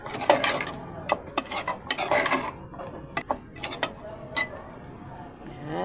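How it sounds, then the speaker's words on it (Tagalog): A spoon stirring a pot of Chinese rice: repeated close metallic scrapes and clinks against the pot in uneven bursts, moderately loud, with no talking. "mix lang po natin at hintayin natin mag-simmer po"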